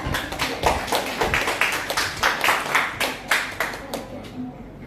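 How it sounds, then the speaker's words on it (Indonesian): An audience claps hands during a school public speaking session, a steady run of sharp, close, fairly loud claps that carries on for several seconds before thinning out. "tepuk tangan"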